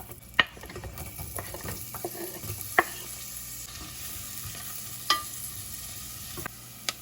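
Onions fry in butter and oil in a pan, a soft steady sizzle close by with several sharp clinks and scrapes of stirring scattered through.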